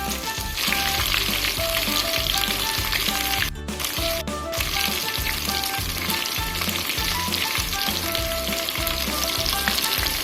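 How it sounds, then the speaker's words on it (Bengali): Chicken satay frying in a pan, pieces browned on both sides, with a loud, dense, continuous sizzle and crackle and a few soft stirring scrapes, no voices. "এভাবেই 2 পিঠ লাল লাল করে ভেজে নিয়ে আমি প্লেটে পরিবেশন করে দেবো।"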